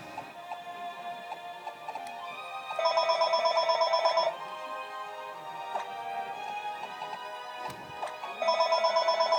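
A mobile phone rings with a repeating electronic trill, loud bursts recurring between quieter ringing tones, alone without talk.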